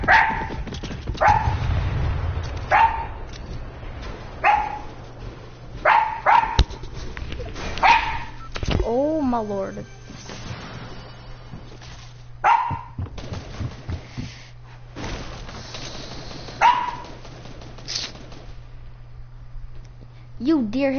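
Dog barks ring out in short, regular bursts roughly every two seconds, fairly close and loud, over a low steady hum with someone talking and exclaiming in between.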